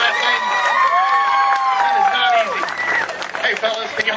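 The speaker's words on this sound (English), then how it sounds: "Give him a nice big round of applause." An audience at an alligator show claps and cheers, with loud applause mixed with high excited voices and shouts over a few seconds.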